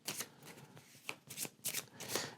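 Ecosystem cards for the Earth board game riffled and shuffled by hand, several quick papery bursts close up and alone, no voices.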